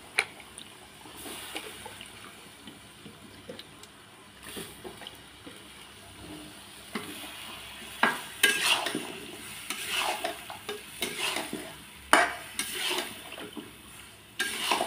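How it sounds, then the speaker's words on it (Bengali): Meat and potatoes stirred and fried together in a pot for bhuna, a low sizzle under scraping and clattering of a spoon against the pot, with louder stirring bursts later on. "একসাথে ভুনা করে দেব।"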